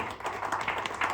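Audience applause at a grand launch event: a short burst of many hands clapping together, fairly soft and steady, with no voices over it.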